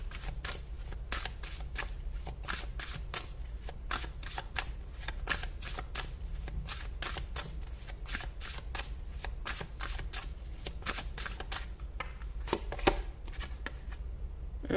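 A deck of tarot cards is shuffled continuously and close up, a rapid run of crisp riffling bursts in steady rhythm with no voice over it.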